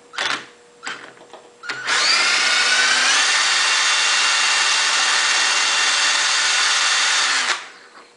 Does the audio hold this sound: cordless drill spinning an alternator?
yes